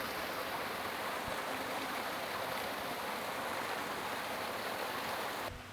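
A waterfall roars as a continuous, dense rush of falling water in a natural setting, close and loud, with no voices, cutting off abruptly at the very end.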